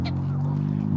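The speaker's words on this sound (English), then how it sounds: "So I think these black and white ones are the Canadian geese" Canada geese and other geese outdoors give a steady, loud honking call close by, one sustained nasal tone with a higher squawk at the start.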